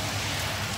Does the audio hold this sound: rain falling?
yes